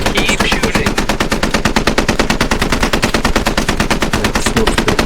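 Automatic rifle fire in a military shooter game, a loud, relentless rapid stream of evenly spaced shots that continues without pause.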